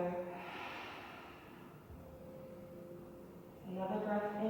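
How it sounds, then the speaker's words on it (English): During a yoga class, a slow, steady exhale of breath is heard up close, with a fresh breath rising again at the end. "Breathing out together."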